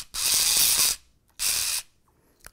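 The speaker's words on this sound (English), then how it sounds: "This smart device is the Crimp Handy. Using this tool, dispense with the stripping of conductors. And crimping works out just like this." A Crimp Handy hand tool crimps an electrical conductor in two loud, hissing, ratcheting strokes, the first about a second long and the second shorter. A faint click follows, with no voices.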